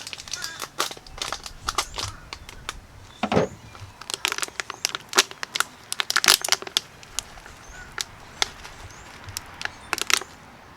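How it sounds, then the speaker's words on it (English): A Schrade SCH F51 knife cuts off a charred survival water filter, giving sharp irregular crinkling, crunching and scraping bursts, close and fairly quiet. "I've got my Schrade here, my SCH F51. I'm just gonna cut this off."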